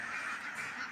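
Khaki Campbell duck, six months old and laying, gives a short nasal honking call, close and clear, lasting under a second.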